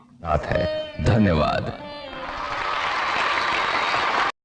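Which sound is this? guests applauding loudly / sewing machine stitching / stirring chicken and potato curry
guests applauding loudly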